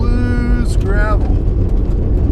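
A car drives along a gravel road during a Texas storm chase, with a loud, constant rumble of engine and tyres heard from inside the cabin, briefly under a voice.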